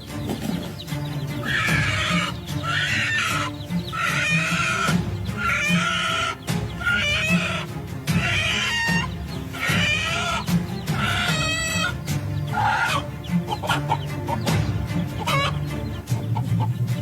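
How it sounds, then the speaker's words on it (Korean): A hen fighting off an eagle squawks and clucks frantically in loud, repeated bursts over a constant background, with no talking. "우리 암탉이 독수리를 물리치는 이 장면인데요"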